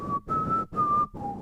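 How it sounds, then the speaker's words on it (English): A person whistles a short four-note tune, each note a clear, sustained pure tone with brief gaps between, close and fairly loud, with no talking. "Sorry, I had to do the whistle at least once."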